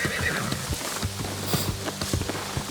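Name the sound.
horse neighing and hooves, video game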